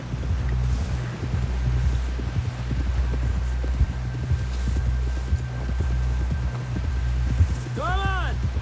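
Horse hooves clip-clop in a steady galloping rhythm in the video game Red Dead Redemption 2, over a low hum, with a short whinny near the end.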